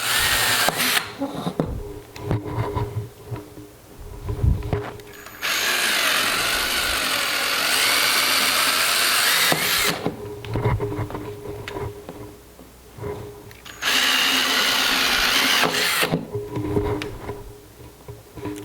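Power drill boring through plastic water filter buckets one after another, loud close whining bursts of drilling several seconds long separated by quieter handling and clunks, no talking.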